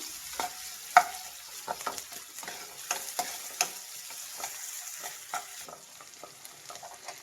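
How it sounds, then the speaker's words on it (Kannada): Onions frying in oil in a pan for a capsicum curry, a soft steady sizzle broken by repeated stirring scrapes and light knocks, close and continuous with no talk. "ಈರುಳ್ಳಿ ಫ್ರೈ ಮಾಡಿ ಚೆನ್ನಾಗಿ."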